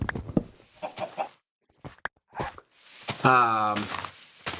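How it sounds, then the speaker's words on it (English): A chicken in a Minecraft SMP survival game clucks a few times in short bursts, with a louder drawn-out cluck near the end and soft footsteps between. "is that a different colored chicken?"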